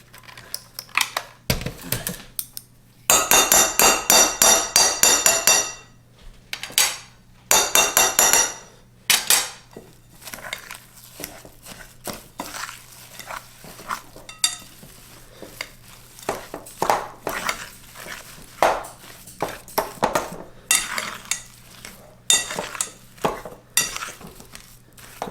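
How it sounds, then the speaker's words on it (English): Slivered almonds and coconut flakes stirred into a thick keto almond-joy cookie dough, a close, busy run of scraping and clattering spoon-against-bowl knocks with bursts of dense rattling, no talking. "This is 1 cup of coconut flakes. So we're going to mix all this in. Mix that, get that all together."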